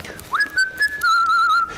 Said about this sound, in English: A little whistle, so as not to annoy anybody.